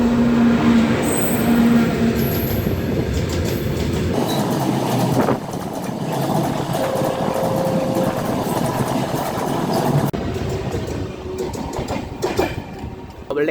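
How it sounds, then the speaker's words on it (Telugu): Goods train passing a railway station on the Vijayawada–Visakhapatnam line, heard from aboard a train: a loud, continuous rumble and clatter of wagons and wheels with squealing tones, steady for over ten seconds without talk. "గూడ్స్ ట్రైన్ అయితే క్రాస్ అయింది"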